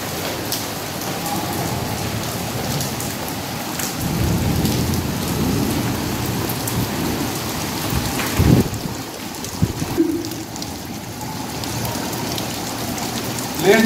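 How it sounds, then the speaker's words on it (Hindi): Heavy sudden June rain pours steadily on a rooftop, a dense close hiss of drops drumming on a surface, with a couple of brief louder knocks partway through. "आज एकदम से बारिश हुई है"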